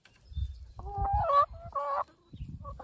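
Chickens cluck and make short, squawking calls close by, a few bursts with quiet gaps in between.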